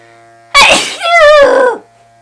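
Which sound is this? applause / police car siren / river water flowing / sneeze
sneeze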